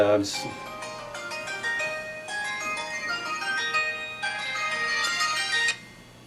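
A melodic electronic phone ringtone plays a repeating tune of bright tones, steady and fairly loud, then cuts off abruptly.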